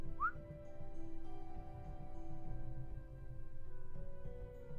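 A short rising whistle calls a horse in the Horse Riding Deluxe game, heard once near the start over a steady, quiet tonal background hum and music.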